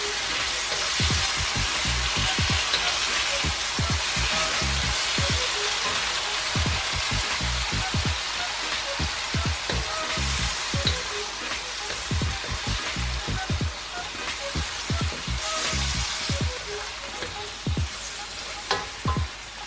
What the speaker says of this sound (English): So we're gonna fry this up really quickly for a few more minutes